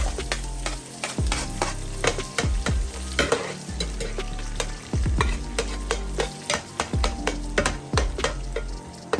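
Onions frying in a pan as the base for a blackeye bean tomato sauce, loud close sizzling with frequent spatula scrapes and stirring knocks throughout, no voices.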